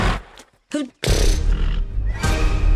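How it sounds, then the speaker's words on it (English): A horse whinnies in an animated film, a short loud neigh answered by a voice, with brief rustling before it. "This horse got a lot of spirit."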